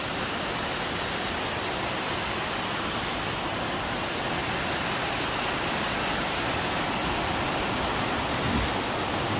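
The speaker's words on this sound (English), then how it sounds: "this is Long Creek Falls, about 6 miles into the hike" Long Creek Falls, a waterfall on the Appalachian Trail about six miles into a thru-hike, roars with a loud, dense, unbroken rush of falling water close by.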